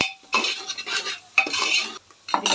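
A spoon stirs a vegetable biryani mixture with garam masala in a pot, scraping and clinking in three bursts separated by brief pauses, close and fairly loud.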